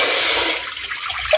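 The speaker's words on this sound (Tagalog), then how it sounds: "Lagyan natin tubig." A strong rush of water pours steadily into a cooking pot, then softens slightly as the flow settles.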